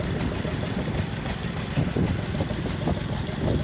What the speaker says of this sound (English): It's a Kenworth Cabover, and it is beautiful.